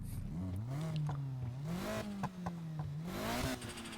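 A Nissan 240 turbo drift car in Need for Speed Heat revs and holds its engine note, rising and falling through gear changes with a steady droning pitch and brief tire chirps.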